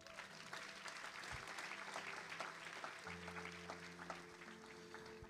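A church congregation applauds in a service, with sustained clapping and a faint murmur of voices throughout and a tone rising under it partway through.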